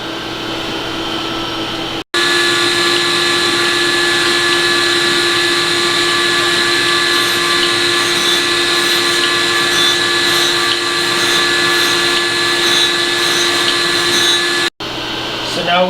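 A grinding wheel works a small metal cube with a loud, steady, tonal whine and hiss held for about thirteen seconds. It cuts out abruptly near the start and end, with a brief quieter hum outside those breaks.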